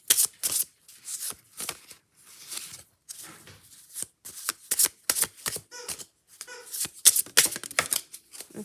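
Buddha oracle cards are shuffled by hand in quick bursts of crisp riffling and flicking, close and fairly quiet, with short pauses between rounds and no voices.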